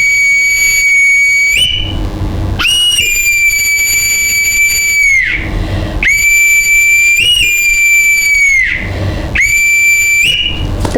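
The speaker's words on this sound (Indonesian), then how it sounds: "Itu peluit kumpul." Long, loud assembly whistle blasts repeat four times, each held a couple of seconds with short gaps between, shrill and close.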